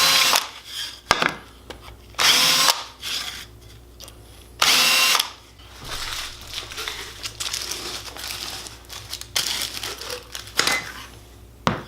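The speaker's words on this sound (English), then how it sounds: "get a little chamfering bit. Clean up your holes a little." A power drill turning a chamfering bit cleans up drilled holes in short bursts, with loud whirring spells separated by pauses and workshop clatter, close by and with no voices.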